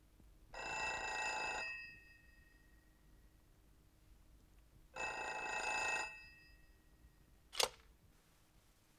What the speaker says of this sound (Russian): Можно попросить к телефону Никиту Сергеевича?